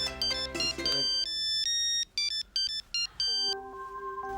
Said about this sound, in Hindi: हाँ किसका फोन है?